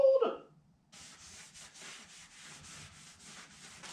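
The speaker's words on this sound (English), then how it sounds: "I want to wipe off my pressure plate as well." A cloth wiping a car's clutch pressure plate during transmission work: a series of soft, rhythmic rubbing strokes, close and quiet, after a brief sound at the very start.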